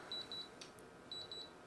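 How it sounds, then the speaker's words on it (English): Quick electronic overheat warning beeps from a Magrav device test in two pairs, a short pause between the groups, thin and high-pitched against a quiet background. "We've got something's beeping"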